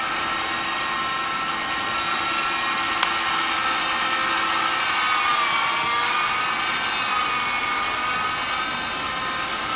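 An RC helicopter flying a big loop, its steady high-pitched rotor and motor whine held loud and continuous, the pitch drifting slightly as it swings through the manoeuvre, with no talk.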